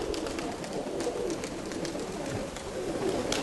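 Pigeons coo repeatedly at moderate distance outdoors in a steady, low, rhythmic series over light background noise, with no talk.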